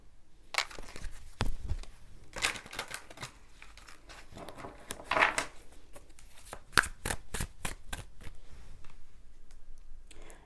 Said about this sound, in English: I'm just going to shuffle around the cards a little bit